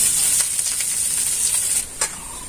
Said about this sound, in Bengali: এবার আমি পেঁয়াজ কুচিটা দিয়ে দেবো।